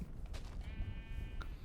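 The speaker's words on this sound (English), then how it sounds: "That's sheep." Video game sheep bleating faintly a couple of times over a steady low background hum, short wavering calls rather than a loud close cry.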